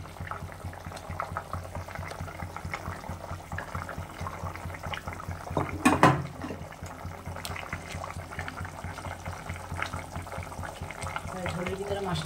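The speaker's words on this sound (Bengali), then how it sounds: "ঝোলের ভিতরে মাছটা দিয়ে দিচ্ছি" Thin Folui fish curry broth with potatoes simmering in a pot, a steady bubbling hiss throughout with a brief louder splash midway, under a person talking.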